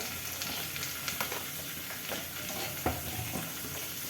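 Two lengthwise-sliced onions and curry leaves fry in a pan for mushroom biryani, a steady close sizzle broken by occasional stirring scrapes, with no talking.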